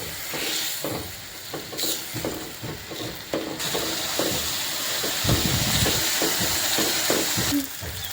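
Tomato sautéing in a pan with chilli, coriander, cumin and turmeric powders, a steady sizzle and hiss with repeated scraping stir strokes throughout, loud and close.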